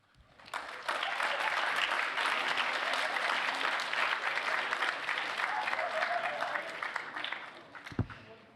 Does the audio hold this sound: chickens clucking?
no